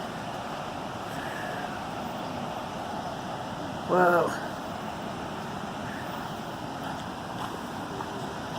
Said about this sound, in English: the water's going really fast